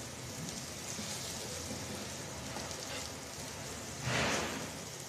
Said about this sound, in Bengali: পেঁয়াজ মরিচটা আমি এইরকম ভেজে নেব